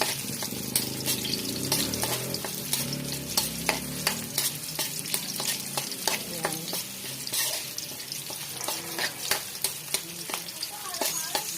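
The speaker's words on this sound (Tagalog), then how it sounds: "gisa na po natin ang sibuyas at bawang." Onion and garlic sauté in a pan, a constant sizzle broken by frequent sharp scrapes and clacks of a stirring spoon, close and fairly loud with no voices.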